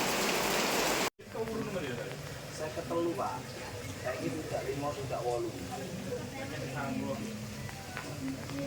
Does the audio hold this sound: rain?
yes